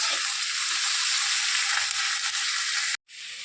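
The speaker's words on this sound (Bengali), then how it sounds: "সবজিগুলো এখানে ভাজা হচ্ছে" Chopped onion, garlic, capsicum and chilli fry in a pan for chilli mushroom, making a loud, continuous close-up sizzle that cuts off abruptly near the end.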